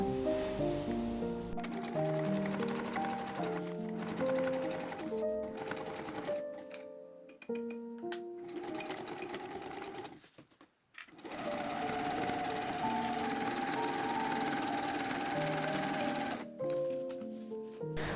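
A sewing machine stitches a ten-panel skirt at regular stitch length, whirring steadily with brief pauses around the middle, over faint background music.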